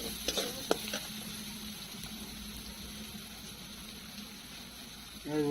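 Chopped ginger, tomato and garlic frying in a pan for a crab curry, a faint steady sizzle with a few clinks of stirring near the start, soft speech over it.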